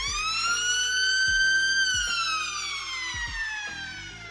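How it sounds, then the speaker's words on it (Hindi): Warning siren aboard a navy ship wails in a long, loud, steady tone that slowly falls in pitch, with faint repeated thumps beneath it and no talk. "वो सायरन जो शायद कोई भी सेलर अपनी सर्विस में सुनना ही नहीं चाहता।"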